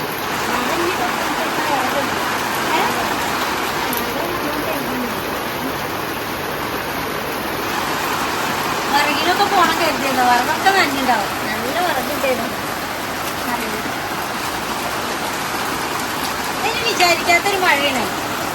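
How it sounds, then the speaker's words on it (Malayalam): Heavy rain pours down as a steady, loud hiss throughout, while people talk nearby at intervals. "നല്ല മഴ അല്ലേ"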